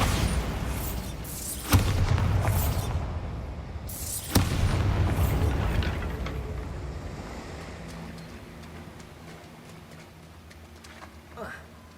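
A Bombarda spell explosion in the game Hogwarts Legacy, two loud booming blasts a few seconds apart, each trailing into a roaring rumble, over a windy, surf-like background.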